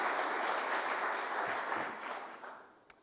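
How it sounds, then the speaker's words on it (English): Audience applause at a distinguished alumni award event, a fairly faint wash of crowd clapping that holds steady and then tapers off near the end. "If they'd all just stand up and we all give them a round of applause."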